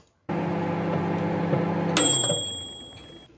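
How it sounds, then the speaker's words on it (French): A microwave oven hums steadily while heating a bowl of milk, then stops with a click and a single clear electronic beep that rings out and fades. "Il met son bol de lait dans le four à micro-ondes et entend ceci."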